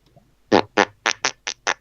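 Cartoonish fart sounds from a video game character, six short buzzy bursts in quick succession, the first the strongest, with no talk over them.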